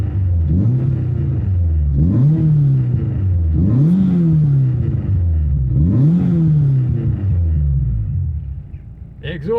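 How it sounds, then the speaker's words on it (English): A cammed Renault Clio RS 172 engine idles roughly with a lopey, surging rhythm, revs rising and falling in repeated waves, loud and close. "that's not a normal idle on these"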